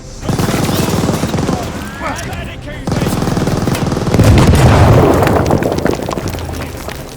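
Rapid machine gun fire and explosions from the video game Call of Duty Vanguard during the Operation Tonga mission, loud and dense throughout, with bursts of gunfire layered over a roaring battle backdrop.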